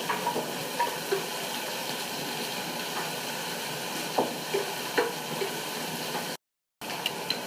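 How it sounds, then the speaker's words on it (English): Nuts and sultanas tumbling into a hot pan of onions for chicken biryani, a continuous soft sizzle and hiss with scattered light clicks and stirring scrapes, steady and fairly quiet. "What I'm going to do now is put the nuts and sultanas back into the pan"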